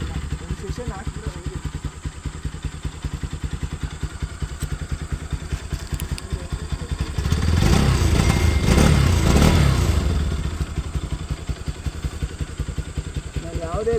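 A modified Bajaj Pulsar NS200 stunt bike idles with a steady, close, chugging pulse, swelling into a louder rev in the middle before dropping back to idle, with people talking over it.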